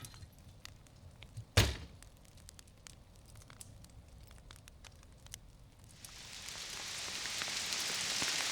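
Rain falls on a truck campsite on a cold night, starting as scattered drops and patter near a fire with one sharp thump, then swelling into a loud, steady downpour hiss over the last few seconds.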